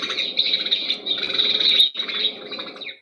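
A tree sparrow calls close by in a quick run of bright, repeated chirps with one short pause partway through.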